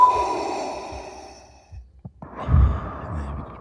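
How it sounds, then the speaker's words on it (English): Darth Vader's mask vent in the Revenge of the Sith suiting scene, a long hissing exhale fading out, then a few clicks and a deep, rumbling mechanical breath, close and fairly loud. "So he's actually breathing out through that because it made the smoke go away."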